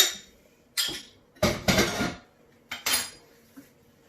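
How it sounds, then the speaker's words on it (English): Cooked peas tipped into a risotto pan, heard as a handful of sharp metallic clinks and scrapes of utensil against pan, separated by brief quiet gaps, close and fairly soft. "I've got some peas here that have already cooked. In they go."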